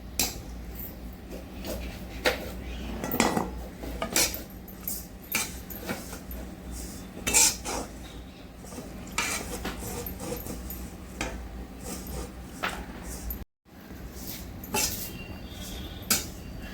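Dry coconut pieces being roasted in a cooking pot, with repeated scraping and clattering of a spatula against the metal, irregular knocks and rattles over a low steady background.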